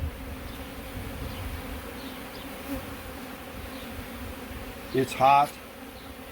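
Bees buzzing in the air around a beehive outdoors, a steady dense drone throughout with a few louder passes close to the microphone near the end; a voice briefly speaks.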